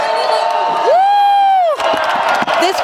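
A huge London protest crowd of about 100,000 cheers and shouts, with one long sustained whoop rising above the dense, loud roar.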